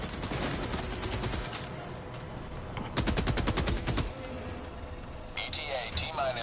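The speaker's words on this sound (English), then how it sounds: "I have a machine gun." Machine gun fire rattles in rapid bursts during a bug-fighting video game, loud close volleys separated by short pauses, with game sounds and radio-style chatter around them.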